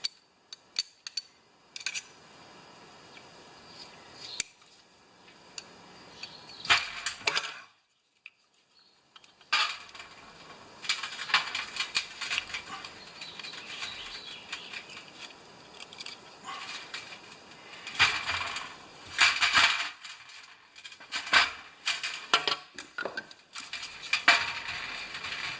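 Cutting off a fuel line, with irregular metallic clicks, scrapes and snipping bursts that come and go with short pauses, close and moderately loud.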